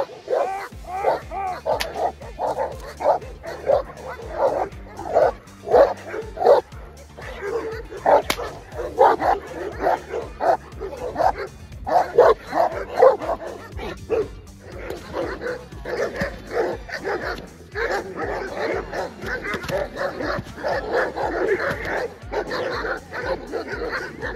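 Moscow watchdog puppies and older adult dogs bark in a busy, overlapping chorus of yips and deeper woofs, with whimpers mixed in, loud and continuous throughout.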